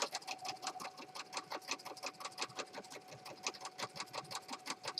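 A sewing machine runs a zigzag stitch, its needle chattering in a fast, even rhythm of rapid clicks with a faint steady motor whine, fairly quiet and close, with no talk.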